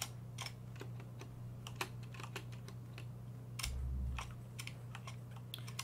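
Computer keyboard typing, scattered quick keystroke clicks at an irregular pace over a steady low electrical hum, close and clear.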